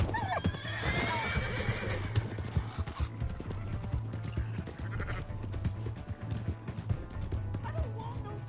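Horse neighing and whinnying with clip-clop hooves in Red Dead Redemption 2, set against a steady low hum and shouted voices, the whinny loudest near the start and hoofbeats continuing throughout.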